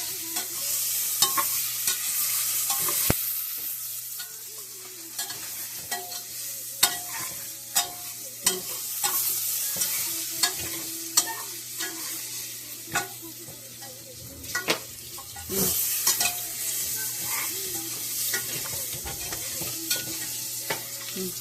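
Ginger sautéing in a pan makes a steady sizzle with repeated scraping stirs of a spatula, close and fairly loud, with no voices.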